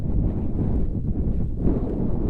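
Wind blows steadily against the microphone on an exposed coastal cliff path, a constant low buffeting rumble with no voices.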